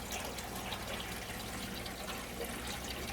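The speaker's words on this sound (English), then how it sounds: "I'm just gonna drain the water real low and catch them out." Dirty water drained out of an aquarium housing African cichlid fry, a steady, even rush and trickle of liquid running close by for a few seconds with no talking.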